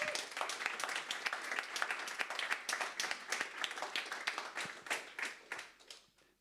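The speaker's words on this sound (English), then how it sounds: "I would like to give a very big applause to Federico" Audience applause at an evening careers event, many hands clapping in a dense, even patter that holds steady and then thins out toward the end.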